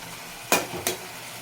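Meat frying in a pan gives two short, bright bursts of sizzle and scrape a fraction of a second apart, standing out against an otherwise quiet background.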